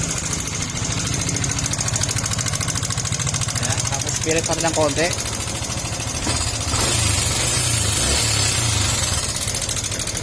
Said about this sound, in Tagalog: ayan mapapansin yung tunog ng makina